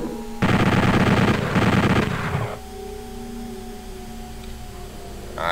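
Rapid chaingun fire from the Doom shooter aimed at a chaingunner, a loud continuous burst lasting about two seconds and then fading out, followed by quieter game hum and electronic tones.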